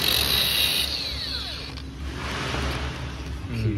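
Brass being scraped with a metal-cutting tool to identify the metal, a high, steady grinding whine that stops after about a second, followed by quieter scraping and workshop noise, with no talking.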